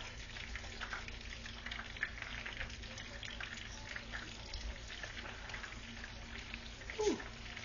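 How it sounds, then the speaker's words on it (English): Chicken cordon bleu browning and crisping in a frying pan, a steady soft sizzle and crackle of oil running throughout at low level, with a brief louder spatter near the end. "they're browning up really good, crisping up"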